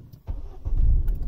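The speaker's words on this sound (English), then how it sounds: "And then we're going to try to start the car." A Ford Fiesta ST180 engine cranks and catches, a short burst of turning over that swells into a steady low idle, close by and fairly loud.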